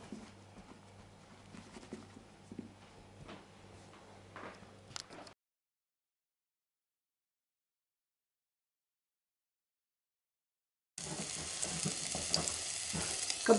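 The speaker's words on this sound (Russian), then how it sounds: "И можно уже обжаривать." Zucchini slices laid in a single layer in a frying pan over very high heat sizzle and crackle steadily, broken by a few seconds of silence before the frying sound returns louder.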